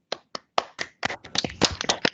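Applause from an online class audience: a few separate sharp claps first, then denser overlapping clapping from several people, close and loud, with no talk.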